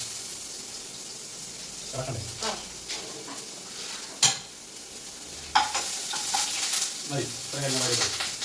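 Ginger and garlic sizzle and fry in a pan while being stirred, with scraping stir strokes and soft clatters over a steady hiss, close by, with brief spoken remarks at times.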